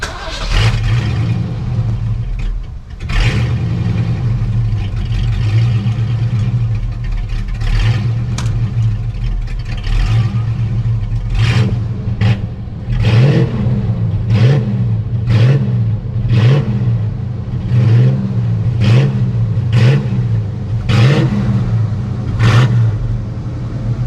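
A 1985 Foxbody Mustang LX 5.0 V8 with longtube headers and an off-road X-pipe exhaust starts, idles with a loping burble, then revs repeatedly in short blips, loud and close, with no one talking.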